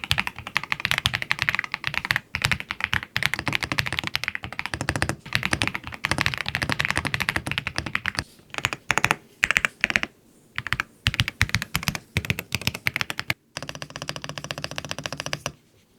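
Rapid typing on a stock, out-of-the-box RK R75 Pro mechanical keyboard, close and clear, with dense clacky keystrokes in bursts, brief pauses and a few heavier thocks.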